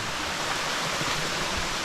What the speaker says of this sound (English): we have this one, a little cascade just above that, one more above that, and then the next waterfall